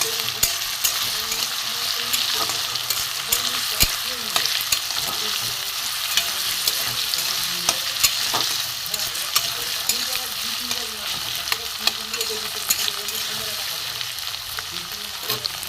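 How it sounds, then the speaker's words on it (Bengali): Potatoes fry in oil in a pan during a power cut, a continuous loud sizzle broken by frequent scrapes and clicks of stirring, with no voice over it. "আলুটা আমি ভালো করে ভেজে নেব।"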